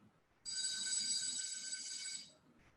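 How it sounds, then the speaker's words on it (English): A bright electric school bell rings continuously for about two seconds, loud and steady, then cuts off, leaving faint background murmur. "and then a bell ringing, a school bell ringing."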